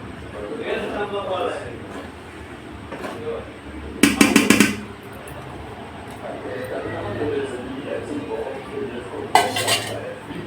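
A spoon stirs coriander vadi batter in a metal vessel, giving scraping clinks with two sharp bursts of clattering against the pot, with a voice talking over much of it.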